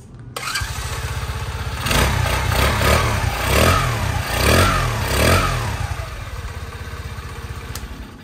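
A 110cc Monkey-style (Gorilla) motorcycle engine idles with a steady chugging beat, then is revved in several quick blips before settling back to a close, even idle.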